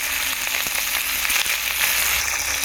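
Chopped, washed cabbage frying in a pan gives a loud, steady, close sizzle that runs unbroken throughout, with faint stirring and no talking.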